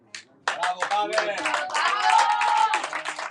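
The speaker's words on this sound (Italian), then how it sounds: "guadagna anche tanti applausi meritatissimi" Stadium crowd applauding a substituted football player, a dense swell of clapping that builds after a brief pause, with voices talking and cheering over it.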